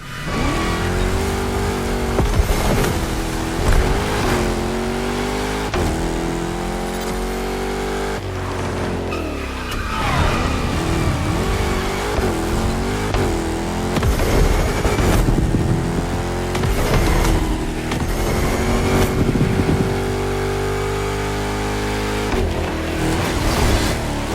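The Hoonigan Gymkhana car in The Crew Motorfest revs hard and continuously, its engine note climbing and dropping through repeated gear changes with bursts of tire squeal and skidding, loud and close throughout.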